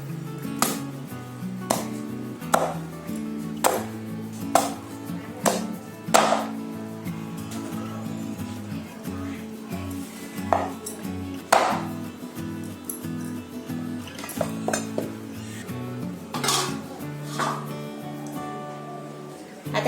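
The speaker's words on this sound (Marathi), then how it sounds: "आता आपल्याला ह्याचे आहेत ना बारीक बारीक तुकडे करायचे," Jackfruit being chopped into small pieces with a knife on a board in a home kitchen, sharp cuts at an irregular pace, about a dozen distinct knocks over a steady low background hum.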